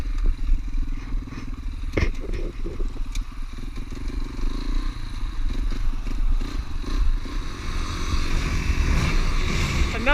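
A trail bike engine revs hard through a second-gear launch on rocky ground, a loud, steady rasping drone with clattering knocks and scrapes from stones near the start.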